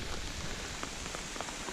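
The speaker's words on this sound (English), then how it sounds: "the rain started. Some pretty big drops too." Big raindrops falling steadily on a lake campsite during a canoe trip, a dense even patter with a few louder nearby drop hits standing out, no voices.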